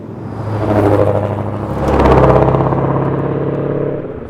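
Two Ford Mustangs, a GT500 and a supercharged GT350, accelerate side by side in a street-tire roll race, their engines swelling into a loud, steady roar and whir that peaks midway and holds strong.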